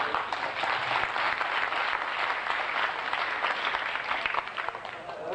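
An audience applauds at a science talk competition, dense continuous clapping from a crowd that holds steady for several seconds before easing slightly at the end.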